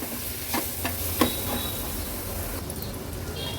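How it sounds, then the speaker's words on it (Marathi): Masala, turmeric and tomato paste sautéing in a pan for an Agri Koli seafood thali, with a few sharp stirring scrapes early on over a continuous low sizzle that carries on alone. "हळद मसाला आणि टोमॅटो वाटणासोबतच छान परतून घ्यायचं आहे"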